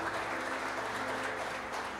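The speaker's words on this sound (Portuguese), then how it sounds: "Dá uma salva de palmas para Jesus, porque Ele merece" A church congregation claps in a steady, dense burst of applause that fills the room and continues evenly for a couple of seconds without pause.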